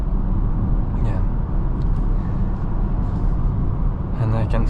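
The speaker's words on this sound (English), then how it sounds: "it's really windy today, so I can hear now in the car outside the city" Wind buffets a 2026 Kia Sportage 1.6 T-GDI AWD on a windy highway outside the city, heard from inside as a loud, constant low rumble and roar with faint gusty flutters.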